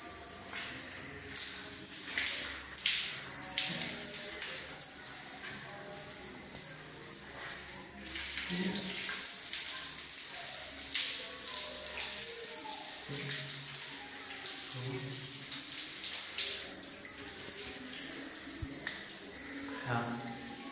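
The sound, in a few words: water running from a handheld telephone shower (bidet sprayer)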